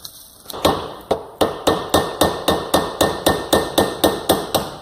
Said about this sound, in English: give it a light tap and see if I can break it free without breaking the housing